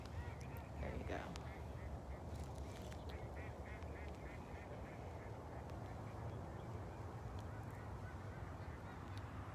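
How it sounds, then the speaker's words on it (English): Ducks quack intermittently at a moderate distance over a steady background rumble in St. Louis at sunset, with a few sharper calls standing out. "You can hear the ducks."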